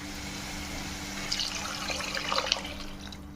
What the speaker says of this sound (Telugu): కొన్ని వాటర్ వేసుకొని